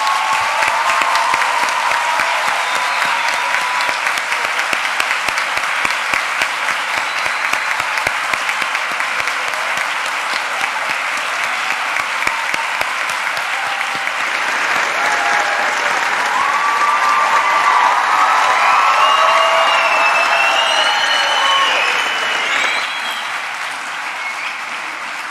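A long, loud burst of applause greets a group of health sciences graduates at a university graduation ceremony in Medellín. Dense clapping runs steadily throughout, with faint voices and cheers rising near the end before it eases slightly.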